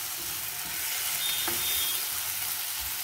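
Tomatoes sauté in a pan for kanthari chicken, giving a steady, fairly quiet frying hiss that holds evenly throughout with no talking.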